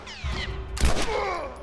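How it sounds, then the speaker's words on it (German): A single gunshot fired in the video game The Last of Us Remastered, a sharp loud burst mid-clip over game ambience and tonal background sounds. "der Schuss ging doch eindeutig direkt ins Herz"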